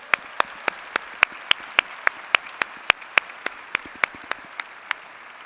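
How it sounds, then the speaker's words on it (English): Applause at a university winter commencement ceremony, a steady wash of many hands clapping with sharp individual claps standing out in a regular rhythm, sustained throughout and free of speech. "Let's give Grace one more round of applause."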